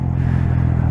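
Honda Grom motorcycle fitted with a Yoshimura exhaust, a loud close engine drone with a steady low thrum as it downshifts, brief and continuous with no talking.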